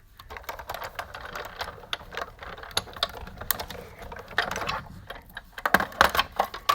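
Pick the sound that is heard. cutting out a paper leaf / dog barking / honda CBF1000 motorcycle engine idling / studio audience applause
cutting out a paper leaf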